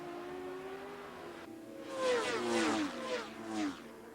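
A Kawasaki racing motorcycle accelerates hard toward turn 4 at the 1993 Daytona 200. A faint engine tone gives way to loud, rising revving sweeps as the bike climbs through the gears.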